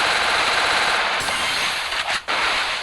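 Rapid automatic gunfire rattles continuously through a video game shootout, dense and loud with a brief dip near the end, as an MDP-style weapon lands a headshot.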